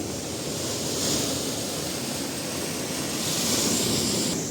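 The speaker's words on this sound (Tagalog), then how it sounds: "Laki ng alon." Large ocean waves roar in a steady, broad wash, swelling twice as surf breaks, with no voices.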